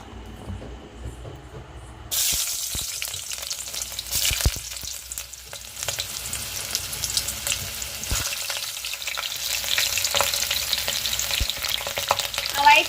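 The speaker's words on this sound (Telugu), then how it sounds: "టమాటాలు పాయలు పలావ్ దినుసులు మొత్తం వేసేసుకొని బాగా ఫ్రై చేసేసుకున్నాం" Tomatoes, onions and pulao spices frying in hot oil for a vegetable biryani, a loud continuous crackling sizzle that starts abruptly after a quiet moment, with occasional clinks and stirring, close by and without speech.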